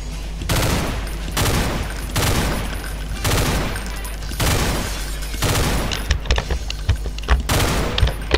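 Repeated three-round bursts of rapid gunfire from a weapon in the Doom mod Project Brutality, each short volley followed by a brief pause, loud and close, ending in scattered shots.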